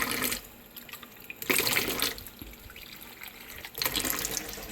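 Tap water runs loudly and steadily into a brownie mixture in a kitchen sink setting. The noisy gush swells and dips in a few surges, heard alone without talk.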